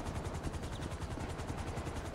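A helicopter in GTA 5 makes a fast, steady rotor chop that throbs in a regular beat. It sounds close and loud and continues the whole time with no talking.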